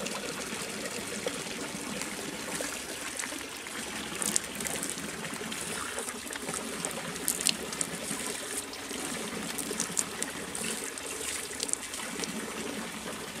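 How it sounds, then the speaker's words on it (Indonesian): Water trickles steadily from the spout of a sacred spring at a Balinese-Hindu temple in Banyuwangi, a soft continuous splashing stream heard alone throughout with small bright drips and gurgles. "disinilah letaknya sumber atau pancuran Eyang Nogobogo atau Eyang Anantaboga"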